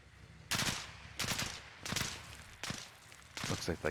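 Bursts of machine-gun fire from a video game battle of US Marine Corps Raiders assaulting an insurgent outpost, five loud broadband volleys spaced about half a second to a second apart, with no talk over them.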